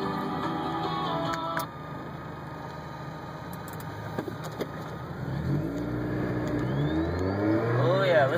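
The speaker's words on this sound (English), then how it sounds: "Ooh, supercharger whine, that's what that is." A car engine revs with a rising supercharger whine under a steady engine drone, climbing toward the end, with a few clicks earlier on.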